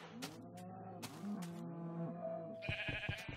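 A bleating animal cry from a sheep in the video game Minecraft, a drawn-out wavering call followed by a short burst of sharper game sounds, clear and alone with no talking.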